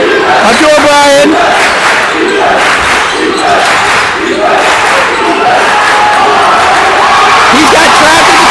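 A high school basketball crowd at Lansdale Catholic versus LaSalle College High School keeps up a loud, steady roar and shouting in a gym, with sneaker squeaks and a commentator talking throughout.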